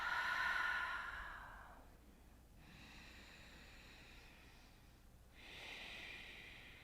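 Deep exhaling breaths during a gentle yoga session: a long, loud breathy exhale at the start, then softer airy breathing, with a second exhale swelling near the end, close and unaccompanied by talk.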